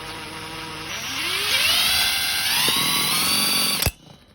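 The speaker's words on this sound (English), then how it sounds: "if we spin it up with the impact" An impact wrench spins up a freshly fitted alternator pulley with a spacer on a Daihatsu Fourtrak, a close, loud rising whine that climbs in pitch over a few seconds before cutting off abruptly near the end.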